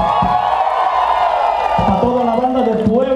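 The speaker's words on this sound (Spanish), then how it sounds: "a ver que se oiga ese aplauso" A live concert audience in Mexico cheers and whoops in a loud, sustained crowd roar, with clapping mixed into the din and a voice calling out over it.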